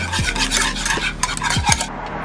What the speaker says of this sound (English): And we'll give that a whisk.